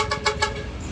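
Sinar Jaya coach bus 57 on the Sukabumi–Wonosobo route arriving, sounding a series of three or four quick multi-tone horn blasts in rapid rhythm, moderately close, over road rumble.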